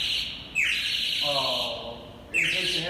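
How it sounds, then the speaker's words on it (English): Bird call effect on a 1919 Wurlitzer pipe organ: bright, whistling chirps repeating in short bursts with a warbling middle phrase, clear and close. "so you can hear birds"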